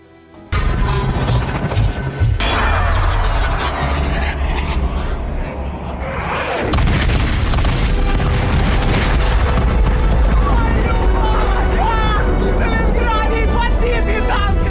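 Explosions from an artillery shell striking a German rocket camp in an action movie: a sustained, loud roar of booms and rumbling blasts that runs nearly the whole clip, with a surge partway through.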